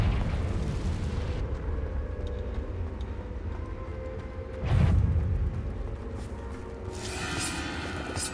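A Confringo blasting curse in Hogwarts Legacy bursts midway as a single loud, boomy explosion with a sharp crack, rising out of steady game ambience and fading back into a low rumble.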